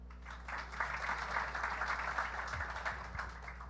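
A comedy club audience answers with a round of applause, a dense patter of clapping that swells and holds for a few seconds before fading, heard at moderate distance over a low room hum.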